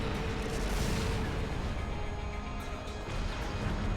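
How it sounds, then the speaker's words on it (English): Steady, dense rumbling booms and crackling blasts from stock explosion effects in the Trails of Cold Steel game, a continuous loud wash of distant artillery-like detonations with no break. "stock explosion noises in the background that I keep hearing"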